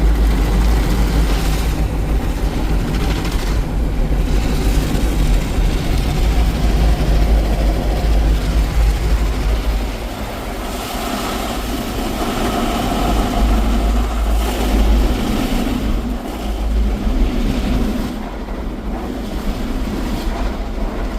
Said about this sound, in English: So the top brush just reversed rotation directions.